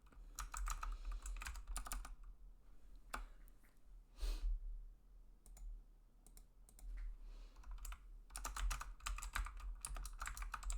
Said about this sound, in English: You guys are just gonna hear me typing.